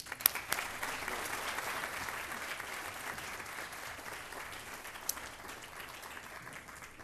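An audience at a diversity and equity awards ceremony applauds to welcome the chancellor, with soft, distant, even clapping that fades slightly toward the end.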